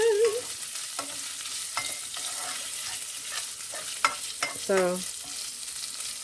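Bacon and beef sausage fry in a pan with a constant sizzling hiss, broken by a few clinks and scrapes of stirring; a voice says a single word briefly over it.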